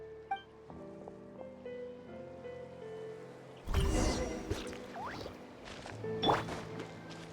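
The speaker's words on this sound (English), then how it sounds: "Carving waves!" Surfboard carving across ocean waves in the video game Genshin Impact, a loud rushing splash of water that surges in mid-clip and swells again near the end over a game music bed.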